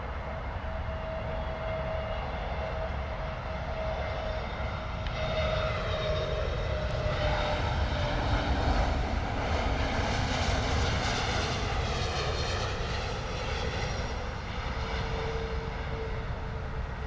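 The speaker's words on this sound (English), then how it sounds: "Lovely landing there from the Iberia A320 Neo." Iberia Airbus A320neo landing at London Heathrow, with a steady, distant jet engine roar and a faint whine that swells slightly mid-landing, heard alone without talk.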